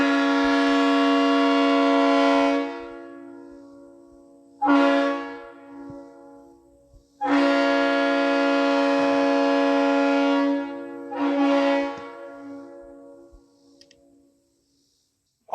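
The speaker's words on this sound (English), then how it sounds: "So that horn sounds amazing." Recorded horn blasts play back in a pattern of long and short: a sustained loud chord, a brief toot, another long blast, then a short one, each a full brassy harmonic tone, followed by silence.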